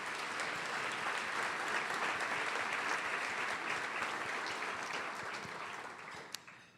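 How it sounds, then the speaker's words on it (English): An audience at a civic club luncheon gives a warm round of applause for sponsors, many hands clapping steadily and fairly close, tapering off toward the end with one sharp knock. "Please join me in a warm round of applause for all of them"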